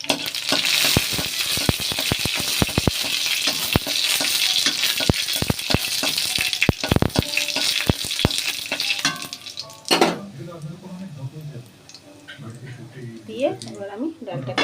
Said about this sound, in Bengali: কড়ার মধ্যে আমি তেল দেব পরিমাণ মতন, গোটা জিরের ফোড়ন দেব